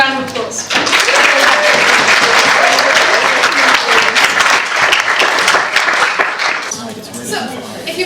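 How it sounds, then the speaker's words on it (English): A large audience at the close of a debate bursts into loud, sustained applause, dense clapping that holds steady for several seconds before thinning out at the end. "Can I please ask you for a final round of applause?"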